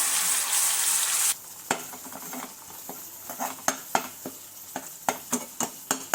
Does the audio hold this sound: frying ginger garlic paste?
yes